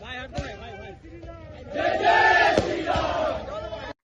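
Crowd of protesters shouting slogans in unison at a Christmas-time disruption, loud and massed voices rising and sustained over a few seconds.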